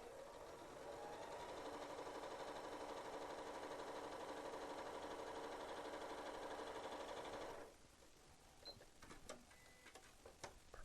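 A sewing machine stitches pieces of a Churn Dash quilt block with a steady, faint mechanical whir for about seven seconds, then stops and leaves a few soft handling clicks.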